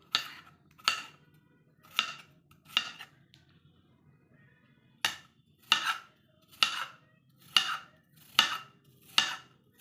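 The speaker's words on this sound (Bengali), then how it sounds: "আলু কেটে নিতে হবে ছোট করে এইভাবে" A kitchen knife chops potatoes into small pieces on a board: a steady run of sharp, close taps, a few spaced chops, a short pause, then a quicker series, with no talking.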